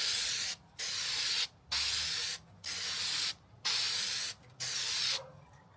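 Spray paint applied in light coats over a decal on a Triumph Bonneville motorcycle seat: six short, even hissing bursts from an aerosol can with brief pauses between them, close by and fairly soft.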